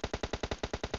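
Rapid automatic gunfire in PUBG, about ten sharp, evenly spaced shots in a quick burst, loud and close with no talk over it.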